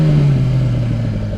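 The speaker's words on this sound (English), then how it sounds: "So I'm gonna sit in the same position, clutch up, and bring the bike to me." A 1000cc motorcycle engine idles and revs steadily up close, a low droning tone with a slight dip partway, heard alone with no speech.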